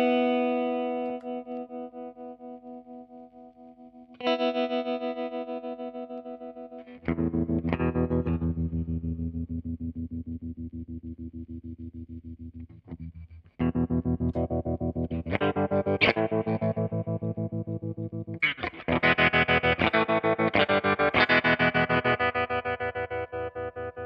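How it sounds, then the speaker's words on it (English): Electric guitar, a Gretsch or Gibson, through a Boss TR-2 tremolo pedal set to square wave at full depth, sustained chords chopped on and off in a hard pulsing rhythm, with more strums coming in over the passage, close and loud with no talk. "really go for a very square wave, and it's pretty extreme. So we'll go for that and put the depth on full"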